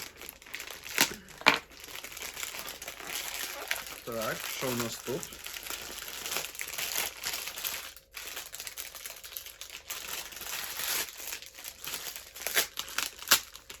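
Crinkly plastic parcel packaging from lost Ukrainian postal deliveries torn open and crumpled by hand, dense crackling bursts and rustles coming close and loud, with a short spoken remark partway through.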